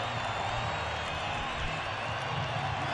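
A stadium crowd roars and cheers for Quinton de Kock's century at a South Africa versus Australia one-day international, a steady dense wall of noise that holds throughout without letting up.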